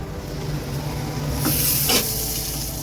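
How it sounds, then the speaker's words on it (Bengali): Pointed gourd (potol) pieces fry in oil in a pan with a steady, close hiss, and a couple of brief scraping bursts come as the pieces are moved around. "পটলটা প্রায় ভাজা হয়েই এসছে আর আর একটু ভাজা হলেই হয়ে যায়"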